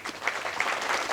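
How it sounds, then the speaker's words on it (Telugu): Brief burst of group applause at a youth talk program, many hands clapping close and fairly loud, swelling slightly after a soft start. "మనందరం చప్పట్లు."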